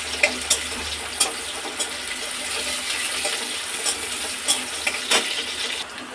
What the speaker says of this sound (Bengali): পেঁয়াজটাকে একটু হালকা লাল করে একটু ভেজে নেব।